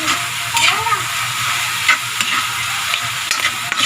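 Siling labuyo chili peppers sizzle and spatter steadily in a frying pan while cooking adobong isaw, a dense continuous crackle with sharp pops and stirring scrapes throughout, no voice.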